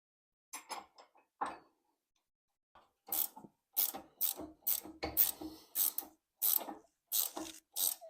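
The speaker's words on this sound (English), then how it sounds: "I'm using 3/4 inch wrenches here" 3/4 inch wrenches tightening self-locking lock nuts on the rear disc brakes of a 1968 Mustang: sharp metallic ratcheting clicks arrive close and clear, first in a few sparse bursts, then in a steady run of quick strokes.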